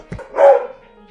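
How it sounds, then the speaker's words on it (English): A dog barks once loudly and close by, preceded by a brief short yip, then quiet. "We're watching our friend's dog."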